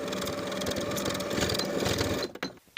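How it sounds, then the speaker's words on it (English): A sewing machine runs steadily, stitching the inseam of athletic shorts with a half-inch seam allowance, loud and close as a continuous whirring hum before stopping abruptly near the end. "Sew with a 1/2 inch seam allowance."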